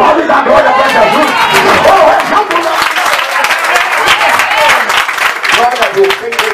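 A church congregation at a temple inauguration claps in loud, sustained applause, a dense wash of many hands with shouting voices and crowd chatter mixed throughout.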